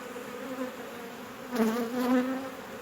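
Honey bees buzz at an open beehive during an inspection with the queen on the frame, a steady close drone that swells briefly near the end.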